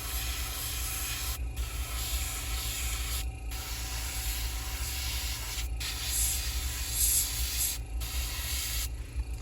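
A small air compressor runs for spray painting on an M422 Mighty Mite, a steady close hum and hiss broken by several brief pauses, with no talk.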